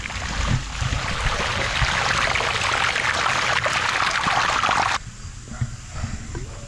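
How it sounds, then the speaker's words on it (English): Water pumped out of a house drain line pours steadily at the street, a loud continuous rushing flow that stops abruptly near the end, leaving quieter outdoor sound. "let's head out to the street now and see how much water comes out"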